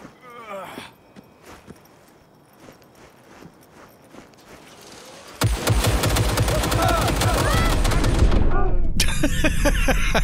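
Security turrets open fire in Cyberpunk 2077. Scattered shots and clicks give way to a loud, dense stream of rapid automatic gunfire that ends abruptly, followed by a short burst of more fire.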